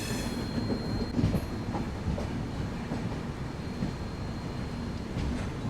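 The Trivandrum–Bangalore Humsafar Express rolls along behind a WAP7 electric locomotive, carriage rumble and rhythmic wheel clatter steady and close, as heard from on board.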